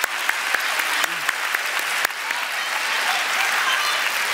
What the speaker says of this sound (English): So could I have a round of applause, please, for this debate to proceed?